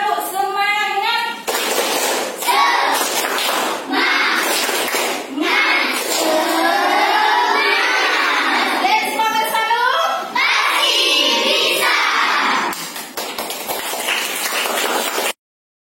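Children chant tepuk semangat together, with bursts of rhythmic clapping between loud, steady group voices, close and lively throughout, ending abruptly.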